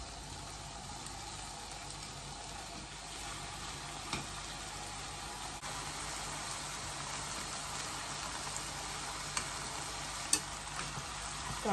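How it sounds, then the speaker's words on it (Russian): Shrimp sizzle steadily in a pan on high heat, a continuous crackling fry with occasional sharper pops and clinks, no talking. "Жарим на большом огне по 2 минуты с каждой стороны"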